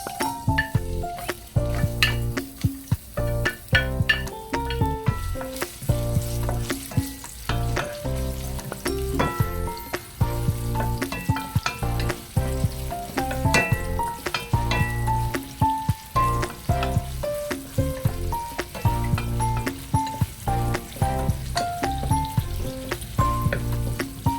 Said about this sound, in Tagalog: Then ilalagay natin yung sibuyas.